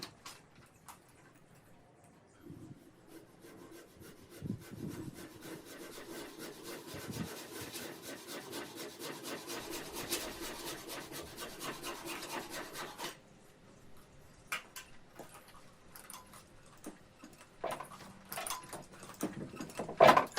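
A wooden offcut sawn by hand for a garden room window opening: steady back-and-forth rasping strokes for several seconds, a brief pause, then a few more strokes, close and fairly quiet.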